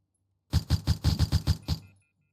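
A quick burst of about seven harsh, buzzing telephone rings in a video game, in a steady rhythm, fairly loud and close, then cutting off into quiet.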